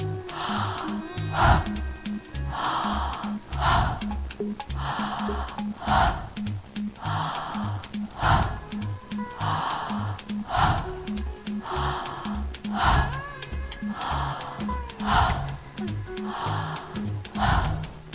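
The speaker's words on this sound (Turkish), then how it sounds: "Bağlantılı bir şekilde nefes alıp nefes veriyoruz." Continuous connected breathing for a breathing exercise, each inhale and exhale flowing into the next without pause. The breaths are close, rhythmic and audible, in repeated cycles of a few seconds each, with no talking.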